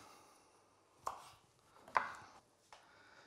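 A knife slicing through black radish, three sharp separate cuts against a board, quiet and close with stillness between each stroke.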